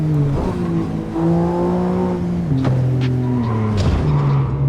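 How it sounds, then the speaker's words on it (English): A BMW M3 F80 brakes hard and slides, its engine tone dropping in pitch under loud tire noise, with a couple of brief squeals and knocks as the car loses grip. "I'm stomping on the brakes and I'm sliding all over the place"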